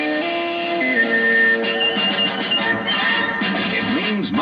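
A CBS Radio sports signature: a short broadcast musical sting of sustained tones with a pitch step up, followed by warbling electronic swoops, loud and alone with no talking.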